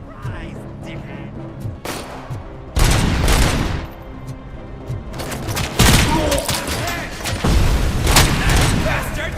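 Gunfire in the action game RoboCop: Rogue City comes in repeated loud bursts with booming impacts, mixed with shouting voices and game noise throughout.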